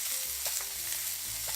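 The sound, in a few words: onions and bacon being stirred and fried in a pan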